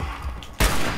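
A single sharp gunshot from a first-person shooting game set in Fallout 76, a loud sudden blast with a low thump that cuts in after a quieter stretch of game ambience.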